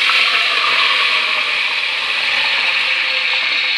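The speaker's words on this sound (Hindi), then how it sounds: "और अब मैं इसमें पानी डाल रही हूँ।" Water pours steadily into a pot of fried cumin seeds for cumin rice, a loud continuous rushing and sizzling wash with no pauses and no talking.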